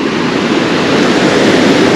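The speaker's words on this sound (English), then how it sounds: "because of the wind and the waves" Surf on a beach during surf fishing, with wind and breaking ocean waves forming a loud, steady, close wash of noise and no talking.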